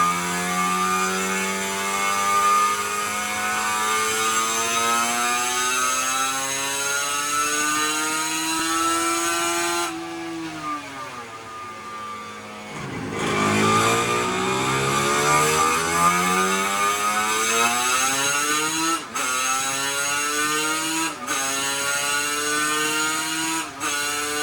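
A Yamaha TZR250 2MA motorcycle engine revs on a dyno. It rises in long, steady pulls of climbing pitch, drops off briefly, then climbs again, sounding loud and close with sharp blips near the end.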